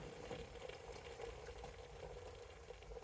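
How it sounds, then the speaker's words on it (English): A pot of goulash with noodles simmers on low heat, giving a soft steady bubbling hiss that stays faint and close throughout with no talking. "I'm going to let it simmer"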